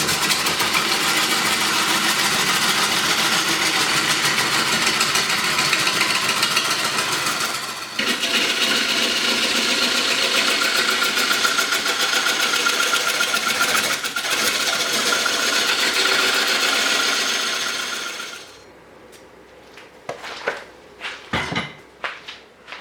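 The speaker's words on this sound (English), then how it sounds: "I'm going to switch over to my monster scraper." Large heavy scraper cutting a big redwood bowl on a wood lathe produces a loud, continuous roaring, hissing scrape close by that holds steady for about eighteen seconds, then drops away into scattered knocks and clatters.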